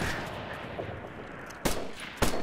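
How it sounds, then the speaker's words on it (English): Gunfire in the video game Operation Flashpoint: Red River, with two sharp, loud shots spaced apart cutting through a low, steady background rumble. "They're shooting at me."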